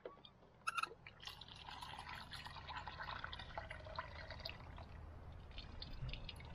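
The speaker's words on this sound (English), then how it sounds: "Run the water out, refill, repeat, and rinse several times" Tap water runs and splashes into a container to rinse cleaned bluegill, a soft, steady trickling and filling sound with a few brief clinks near the start.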